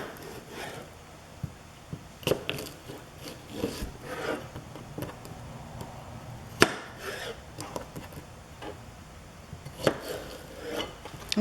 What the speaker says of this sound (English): Gonna cut them in half and then cut them in half again